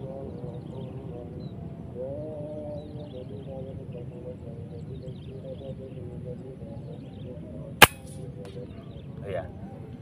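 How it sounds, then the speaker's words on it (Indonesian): A single sharp air rifle shot fired outdoors at a target, a sudden crack standing out above steady background chatter and ambient noise, with a fainter knock following moments later. "Tembakan pertama."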